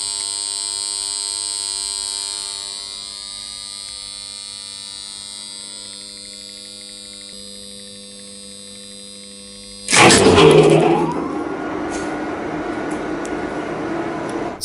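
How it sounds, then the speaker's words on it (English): A noisy relay coil in an old lift circuit hums steadily and faintly at first, then a loud buzzing clunk cuts in and a harsher, louder hum continues to the end. "This is what you can normally hear when a noisy relay coil hums like this."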